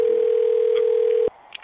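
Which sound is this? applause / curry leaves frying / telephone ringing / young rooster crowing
telephone ringing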